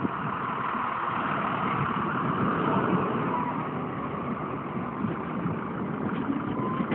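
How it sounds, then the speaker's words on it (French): A road grader's engine drones steadily while lifting an overturned truck at a crash site on the Akjoujt road near Nouakchott, Mauritania, a loud continuous rumble with no talk over it. "Il y a le gradeur qui est en train de soulever maintenant le camion."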